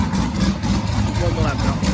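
A big-cam twin-turbo LS V8 idles with a steady, lumpy low rumble throughout, holding its idle without stalling, with a faint hum of voices in the background.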